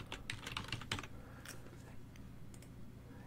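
A folder name is typed on a computer keyboard in a quick cluster of crisp keystrokes, then a few isolated taps trailing off into quiet room hum.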